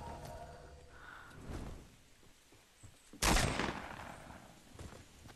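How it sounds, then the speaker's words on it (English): Gunfire in a battle royale video game: a sharp, loud burst of shots stands out mid-clip, with fainter shots and game noise around it. "Let's just keep shooting."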